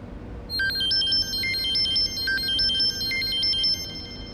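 A mobile phone ringtone plays a quick, bright electronic melody of stepping beeps that repeats steadily for a few seconds, clear and alone with no talking.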